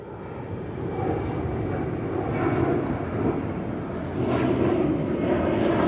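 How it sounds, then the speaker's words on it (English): A large manned aircraft taking off from Coolangatta Airport, a steady distant engine roar that swells slightly and holds throughout, with no other sounds standing out. "There's a big manned aircraft just taking off from Coolangatta Airport at the moment."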